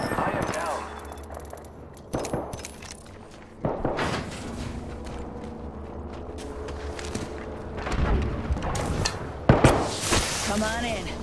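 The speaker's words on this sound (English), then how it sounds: "I am taking fire, friends." Gunfire in a shooter game, with scattered shots and short bursts, some loud and close, mixed with game voice lines and effects.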